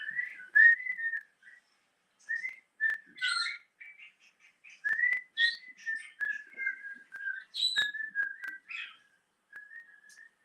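Pet cockatiels practicing a whistled tune, a string of clear melodic whistled phrases with short chirps between them, fairly close and moderately loud, no talking.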